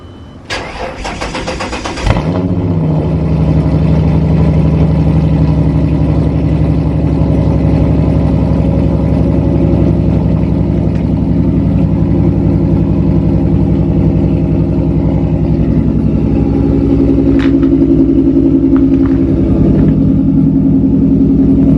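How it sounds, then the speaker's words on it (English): A Ford Mustang engine cranks and fires up after a couple of seconds, then settles into a steady, rumbling exhaust idle heard up close, with no talking. "I'll keep my camera back here so you guys can get a good exhaust clip."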